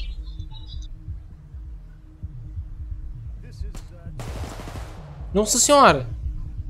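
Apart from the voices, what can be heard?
gunfire shots in video game Payday 2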